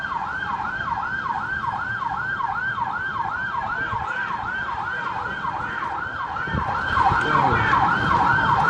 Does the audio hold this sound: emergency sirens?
yes